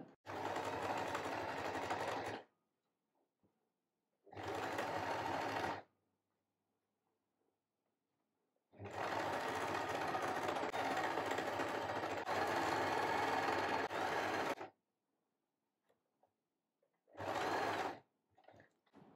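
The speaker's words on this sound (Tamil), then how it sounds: "இது உள்ளே விட்டு அப்படியே ஸ்டிச் பண்ணிடலாம்." A sewing machine stitches a drawstring gift bag in four bursts of close, steady mechanical whirring, the longest about six seconds, with near-silent pauses between them.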